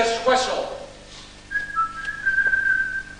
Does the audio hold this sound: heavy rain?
no